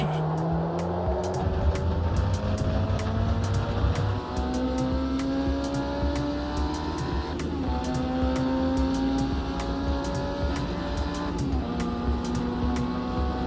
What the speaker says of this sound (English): And these really old school Formula Juniors. Currently locking the rear tyres.